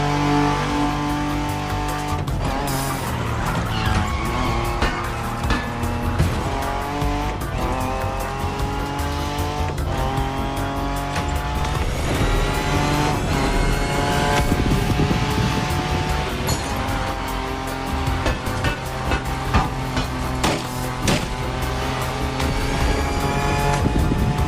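Muscle car engines roar through a race in The Crew Motorfest, loud and continuous, with tire squeal and skidding rising over a dense, sustained drone with no talk.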